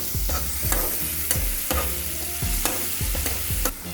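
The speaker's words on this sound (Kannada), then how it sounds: "ಶೇಂಗಾ ಹಾಕ್ಕೊಂಡು ಎಲ್ಲ ಮಿಕ್ಸ್ ಮಾಡ್ತೀನಿ." Peanuts and onions frying together in a pan are stirred with quick, evenly spaced scrapes and clacks of a spoon over a constant loud sizzle, close up, with no voices.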